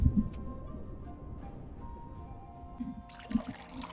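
Flood water trickles and drips steadily in a cozy tavern scene, a faint continuous wash of water with a few soft knocks and a brief brighter splash near the end.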